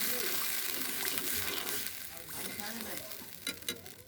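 Ginger paste, cumin paste and chili frying in a hot pan, a steady close sizzle with stirring scrapes throughout, easing slightly toward the end with a few brief louder clatters.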